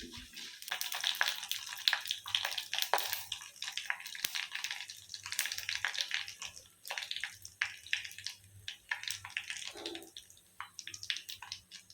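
Fenugreek, cumin and pepper splutter in hot sesame oil, a close, steady crackle of sharp pops and hisses with no talking.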